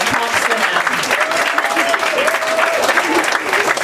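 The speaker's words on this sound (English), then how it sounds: "Let's give him a round of applause" An audience at a comedy night applauds a comedian with steady, dense clapping that fills the room, mixed with a few voices and cheers.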